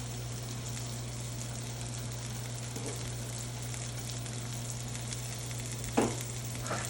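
A thick NY strip steak sears in a cast iron pan, giving a constant loud sizzle over a low steady hum, with a brief scrape or spatter near the end and no talking.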